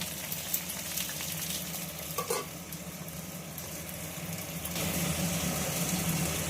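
Vegetables cook in a covered pan, giving a soft, steady frying sizzle that stays low and close throughout and swells slightly toward the end, with no talking.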